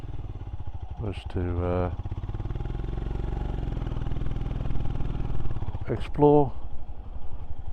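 A motorcycle riding down into the Elan Valley, its steady engine drone running throughout beneath a person speaking at the start and end.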